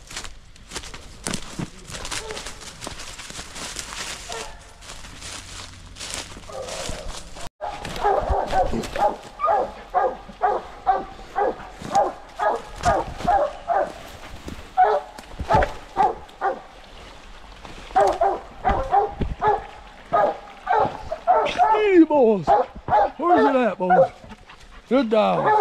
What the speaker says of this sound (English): Good little dog.